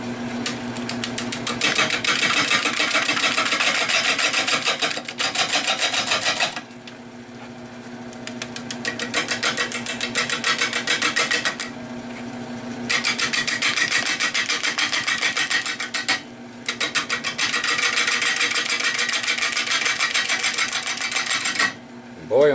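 A wood lathe spins a white oak bowl blank at 360 RPM, with a steady loud motor whine and the scraping rasp of the tool cutting, broken by a few short pauses across the stretch.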